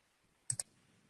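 A quick pair of sharp clicks, like keys tapped on a keyboard, in an otherwise quiet room.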